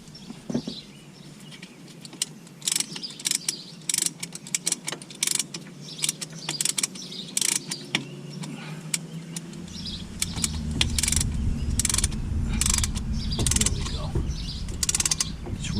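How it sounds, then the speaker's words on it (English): Ratchet tool compressing the brake caliper pistons on a Chevy Impala front brake job, sharp repeated clicks and metallic mechanical clatter, then a louder steady grinding rumble in the second half. "Ratchets and opens up and depresses those pistons all the way."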